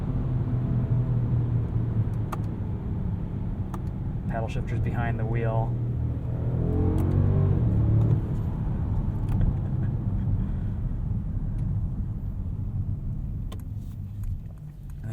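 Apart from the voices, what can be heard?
Mercedes-Benz S580 4-liter biturbo V8 engine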